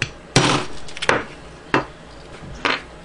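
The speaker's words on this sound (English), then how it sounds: "I just use a regular hammer." A regular steel hammer strikes a knife sheath four times at uneven intervals, each blow a sharp, close knock with a short ring, with quiet pauses between.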